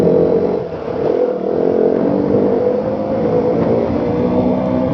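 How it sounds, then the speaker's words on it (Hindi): A motorcycle engine held under throttle, a loud continuous droning rumble that stays steady with slight dips in level for five seconds, close up with no talking. "बस बस इससे ज़्यादा थ्रोटल नहीं देने वाला हूँ मैं।"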